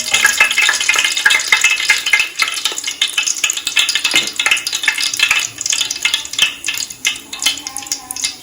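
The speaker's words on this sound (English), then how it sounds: "so you can wait for it to fry a little bit" Spices including anise fry in hot oil in a pan, the base for a crab dish. A loud, close sizzle carries throughout, broken by rattling stirs and utensil scrapes against the pan.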